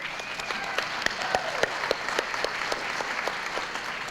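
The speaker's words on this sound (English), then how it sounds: "clapping is good for the winners" Indoor audience at a Native music awards ceremony applauding winners, a steady wash of many hands clapping with a few sharper individual claps throughout.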